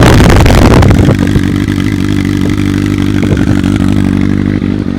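A 1200cc Kawasaki ZX-12R with its exhaust baffle fitted revs hard close up, then settles into a loud, steady, rumbling drone.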